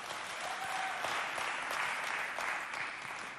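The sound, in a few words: audience applause welcoming a contestant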